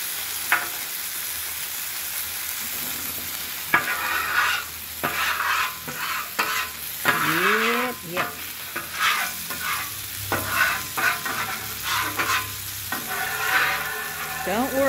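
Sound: burger patties sizzling as they are flipped and smashed on a griddle

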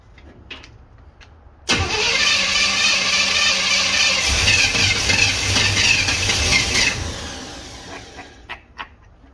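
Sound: 1964 Chevrolet Impala engine cranking and starting after 25 years

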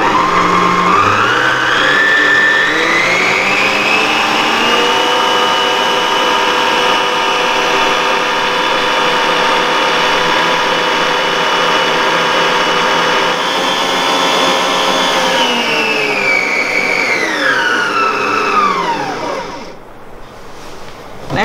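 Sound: stand mixer running with balloon whisk

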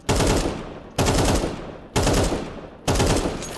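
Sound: gunfire while moving in the Counter-Strike 2 video game

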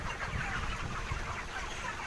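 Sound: broiler chickens crowding around a feed pot

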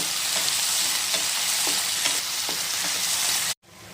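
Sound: frying tomatoes and green chillies with onion and garlic

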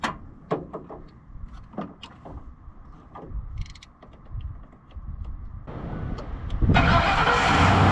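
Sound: van engine starting with a jump starter

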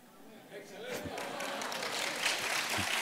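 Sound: applause, clapping

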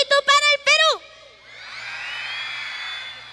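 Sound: crowd shouting and cheering for Peru

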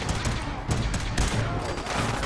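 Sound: gunfire in Fallout 4 video game

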